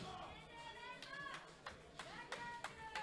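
Crowd at a world classic powerlifting championships applauding a Swedish junior women's lifter on platform 1, scattered claps and cheers rising under a commentator's voice, with sharp whistle-like shouts standing out near the end.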